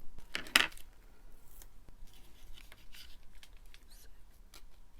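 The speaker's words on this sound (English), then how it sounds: "trim off the excess" Scissors trim excess paper while a flip journal is being made, with a sharp crisp snip near the start followed by faint, scattered paper rustles and small clicks.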